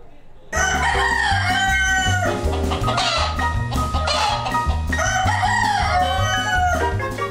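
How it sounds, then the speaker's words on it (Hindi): Two roosters kept inside the Athner police station in Betul crow loudly and repeatedly in drawn-out calls, close by, over a dense, continuous background. "बैतूल के आठनेर थाने में इन दिनों 2 मुर्गों की बांग सुनाई दे रही है"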